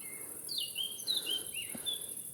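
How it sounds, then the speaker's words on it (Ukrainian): A small bird sings a few thin, high chirping phrases outdoors, fairly faint against a quiet background with a soft steady hiss. "Чуєте, пташечка співає."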